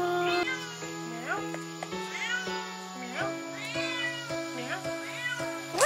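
A cat meows repeatedly in a home, around eight close, clear, rising and falling calls in an irregular rhythm, with a few soft clicks between them and no talk.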